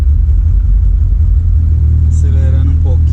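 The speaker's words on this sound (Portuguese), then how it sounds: "vou acelerar um pouquinho aqui para ajudar" A VW Saveiro G3 pickup with a 2.0 turbo engine and HX40 turbocharger runs loud and close, its deep engine rumble holding steady before a brief throttle blip, with a voice speaking over it.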